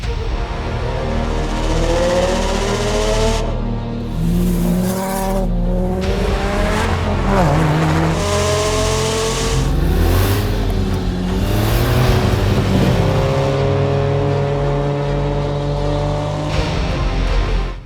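A Subaru Impreza WRX STI engine revs and shifts through gears while driving on a dirt road, with tire noise and bumps, loud and continuous for the whole stretch.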